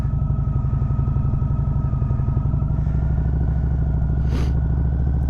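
A motorcycle riding slowly in a slow race drill, its engine putting out a steady, close, rhythmic low putter at near idle, with a short scuff partway through.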